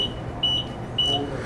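A mobility scooter sounds its safety warning, short sharp electronic beeps in quick pairs over a low background hum, close by and clear.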